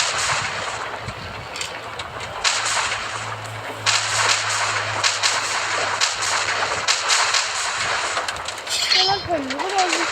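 Gunfire crackles in a video game as a series of sharp, clattering shots and impacts bursts over a low background hum, with someone talking over the action.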